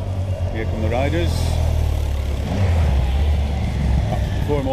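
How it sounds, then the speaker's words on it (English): Motorbikes roar down a hill past roadside spectators at the Chorley Grand Prix, a continuous loud engine rumble with voices from the crowd mixed in. "After the four motorbikes. And they're tonking it down the hill."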